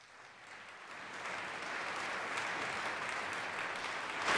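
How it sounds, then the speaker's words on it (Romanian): Audience applause at a ball greets the advanced dancers after a Viennese waltz, a dense, steady wash of clapping that swells gradually and then holds strong for several seconds. "Aplauze pentru avansați!"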